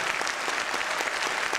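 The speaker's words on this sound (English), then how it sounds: "I think we need a warmer round of applause than that" A conference audience claps steadily, a dense, even patter of many hands filling the room from start to finish with no voices heard.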